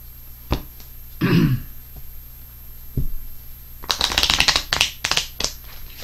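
Tarot cards are shuffled and pulled from the deck, with a soft riffle early on, scattered taps, and then a busier burst of rapid card flicks and slaps close by, with no talking.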